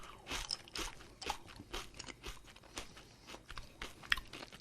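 Someone crunches Trader Joe's Patio potato chips with dill, BBQ, ketchup and vinegar flavors, chewing close to the mic in a steady run of crisp, irregular bites and crackles with no talking.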